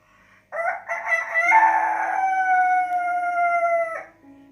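A single rooster crows one long cock-a-doodle-doo, rising and then holding a drawn-out, clear final note for several seconds, loud and alone in an otherwise quiet setting.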